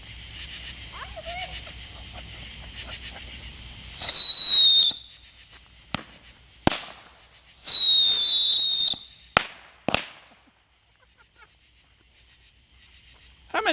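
Fourth of July backyard fireworks go off nearby: two whistling, crackling bursts, each about a second long, plus several sharp bangs, with crickets chirping softly in the quiet night between them.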